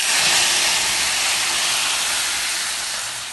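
Tempering spices with asafoetida sizzle steadily in hot oil in a kadai, a loud, close, continuous hiss that eases slightly toward the end.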